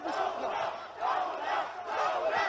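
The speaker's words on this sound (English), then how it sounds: "Crowds shouted, "Revolution, revolution."" Crowd of protesters in Lebanon shouting rhythmic revolution chants, massed voices swelling in repeated waves at moderate distance.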